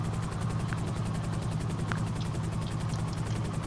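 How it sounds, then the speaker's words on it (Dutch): Video game helicopter in GTA 5 Online, a steady pulsing rotor thrum with an engine drone, constant and loud for the whole stretch with a couple of faint clicks over it. "Zoals jullie nu zien, we zitten lekker in een helikopter."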